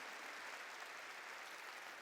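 A church congregation applauds during a sermon with steady, even clapping that sounds soft and somewhat distant and continues throughout.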